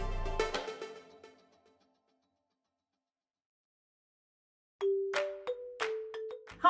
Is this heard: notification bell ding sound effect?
yes